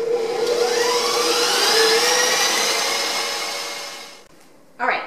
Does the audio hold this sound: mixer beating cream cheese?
yes